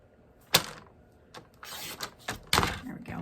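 A paper card front is trimmed with a few sharp, close slicing and snapping strokes in quick succession, loud and brief with short gaps between them.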